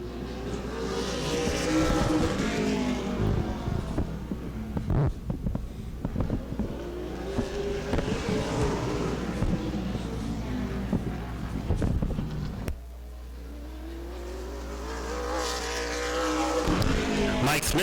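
A race car, number 97, accelerating out of turn 4 with the driver fighting the wheel, engine notes rising and falling in repeated loud sweeping passes, with a commentator's voice partly over them.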